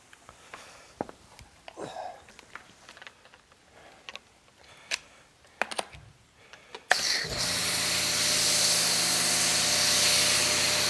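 Quiet handling clicks and rustles, then a sudden loud, continuous hiss of a pressurized sprayer spraying car wash foam onto a car, going steadily to the end.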